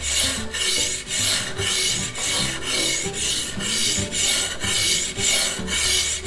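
A slice of stone is cut at a bevel by hand in a Santa Croce workshop, producing about a dozen rhythmic back-and-forth rasping strokes, close and steady, with a brief murmur from a voice.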